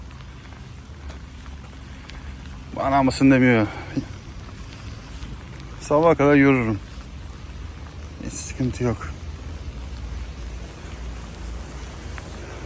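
Steady rain hisses in the background throughout a weekend walk in Ukraine, with someone talking in short bursts over it.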